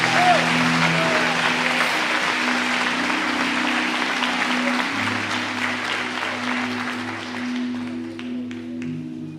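A church congregation applauds steadily through a sermon, a dense, loud wash of clapping that holds for the whole stretch while sustained musical tones hum beneath it and a voice sounds faintly.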